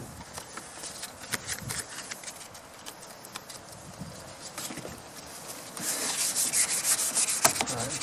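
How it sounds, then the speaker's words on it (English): Painted surface on a 1934 Pacific Model 107 is wet sanded by hand with 400 grit wet-and-dry paper, giving steady close rubbing strokes that grow louder and faster toward the end. "Using a 400 grit wet and dry."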